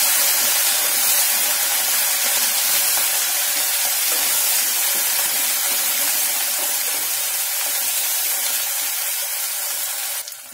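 Curry gravy for hotel-style kaju (cashew) curry hits a hot pan with a loud, steady, steamy hiss that stays close and even throughout, then cuts off sharply at the end, with no speech.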